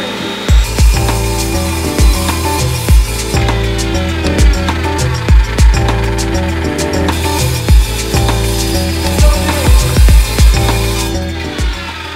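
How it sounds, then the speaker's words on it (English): A miter saw with a stop block cuts metal tubes, giving a loud motor whine and grinding cut interrupted by regular thumps as each piece is set and sliced. "I'm gonna start by cutting all the tubes, and I'm gonna do that on the miter saw"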